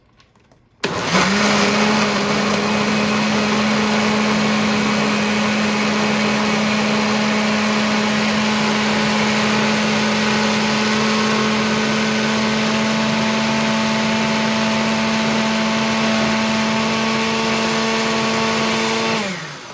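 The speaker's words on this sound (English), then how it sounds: "So go ahead and give this a twirl. Blend this up." An electric blender purees a roasted red pepper vinaigrette, switching on with a sudden loud whir and holding a steady high motor drone for nearly twenty seconds before spinning down.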